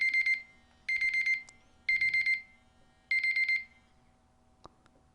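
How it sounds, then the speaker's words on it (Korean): A timer alarm rings in four short bursts of rapid high beeping, evenly spaced with brief pauses between them, fairly close in an otherwise quiet room with a faint steady hum and a small knock near the end. "요 타이머입니다."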